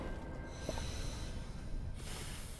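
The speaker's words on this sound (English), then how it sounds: "Oh no, heavy breathing, I'm gonna die." Heavy, labored breathing of an astronaut character in Astroneer, short rasping snort-like breaths with a hissing wash, quiet and close over a low rumble.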